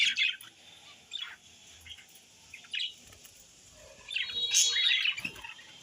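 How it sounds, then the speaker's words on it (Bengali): Pet birds chirp in short, bright bursts near a home in rural Bengal, scattered tweets and squawks over a quiet background, the busiest flurry toward the end, no talk. "পাখিগুলোকে দেখেছ?"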